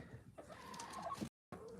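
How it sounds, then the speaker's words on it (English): Chickens inside a chicken coop cluck and murmur softly at close range, a few short calls rising over low shuffling before a brief silent gap, then more faint clucking. "And there they are, chickens."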